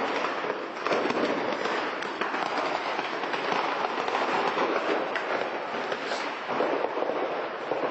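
An ammunition depot in Afrin blowing up for minutes, a dense, continuous crackling roar of countless small detonations heard from a distance, steady and unbroken like fireworks.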